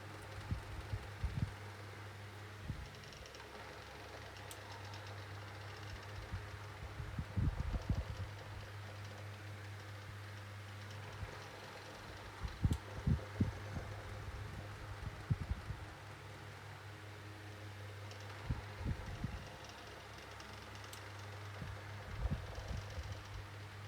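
A 1980s Micromark 9-inch desk fan runs on low speed while oscillating. It gives a quiet, steady low hum with soft intermittent ticks and knocks as the head sweeps.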